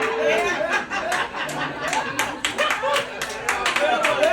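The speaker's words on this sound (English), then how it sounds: "thank you for the clapping" A comedy show audience claps steadily, with scattered laughter and crowd murmur mixed in.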